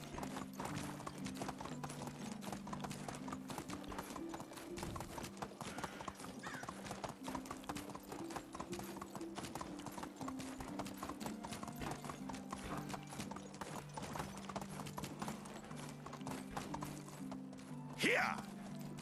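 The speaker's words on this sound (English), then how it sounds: "I can easily get myself over there by horse" A horse's hooves in the Medieval Dynasty video game, steady rapid clip-clop beats of a ridden horse continuing throughout over a low musical drone, with a short louder burst near the end.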